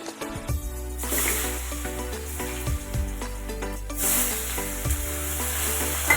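Potatoes frying in oil in a wok sizzle steadily up close, with repeated scraping stirs and a low rhythmic hum beneath the crackle.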